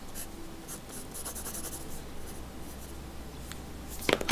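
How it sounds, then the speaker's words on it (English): Pencil scratching across paper while storyboarding, a soft steady rasp of strokes carrying on throughout at low level, with a louder burst of quick marks near the end; no speech. "Swap back to my pencil for sure."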